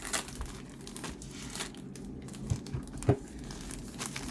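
Thin plastic film torn and peeled off a Tenet Blu-ray case, heard as close, quiet crinkling and crackling with a couple of sharper tearing bursts.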